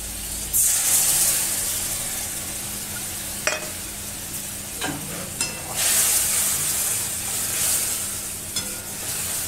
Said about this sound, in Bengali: আমি মশলাটা আগে কষিয়ে নেব।